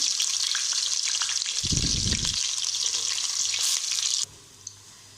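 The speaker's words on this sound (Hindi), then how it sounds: "तेल गर्म हो चुका है, अब हम इसमें प्याज डाल लेते हैं। प्याज को हम हल्का फ्राई कर लेंगे।" Onions frying lightly in hot oil for a potato and lentil dal, a steady close sizzle with a brief louder stir, then dropping abruptly to quiet near the end.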